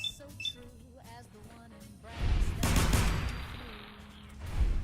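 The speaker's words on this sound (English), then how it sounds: "You think the gunfire sound like footsteps" Gunfire in the video game Fallout 4 erupts as a loud, dense burst of several shots, then trails off, following a few seconds of a man's quiet speech.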